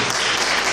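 A church congregation applauding, a dense, loud burst of clapping that fills the whole brief moment.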